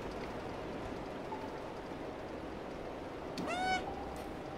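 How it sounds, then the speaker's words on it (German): A cat in the video game Stray gives one short meow near the end over a steady bed of rain-like ambient noise. "Süße Katze."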